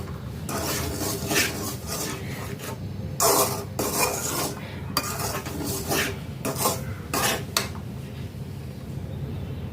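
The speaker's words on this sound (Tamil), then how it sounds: "அரிசி மாவு வறுத்துட்டோம்" Rice flour roasted in a pan and stirred with a spoon, steady scraping and rasping strokes with occasional metal knocks against the pan, close and continuous with no talk.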